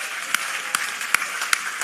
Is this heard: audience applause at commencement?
yes